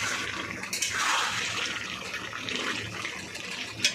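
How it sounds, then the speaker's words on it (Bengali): Hot water pours steadily into a pot of home-style village chicken curry cooking over a wood fire, a continuous close splashing, rushing stream running for the whole stretch with no talk. "এবার আমি গরম জলটা দিয়ে দিচ্ছি"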